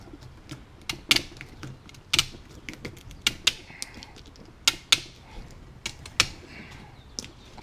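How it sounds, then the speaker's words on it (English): Tin snips cutting through the tough skin of a long nose gar as it is filleted, giving a string of sharp, close crunching snaps at uneven intervals. "That's a good pair of 10 snips too."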